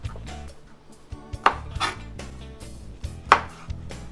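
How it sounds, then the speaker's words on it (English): Tomatoes being cut in half with a knife, a series of sharp chopping knocks on a board with two louder thuds, close up and alone without talk. "Cut the tomatoes in half and put them in a bowl"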